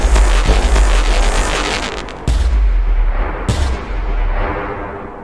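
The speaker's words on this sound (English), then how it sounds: "That was a lot of explosions." Loud, continuous rumbling explosions and booming blasts from the baseball video game Out of the Park Baseball 23, dense and sustained with a couple of sharp bursts standing out.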